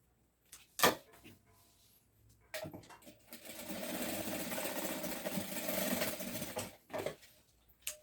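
A sewing machine stitches a padded backpack strap, starting with a couple of short bursts, then a steady mechanical whirring run of a few seconds, ending with brief stop-start stitches.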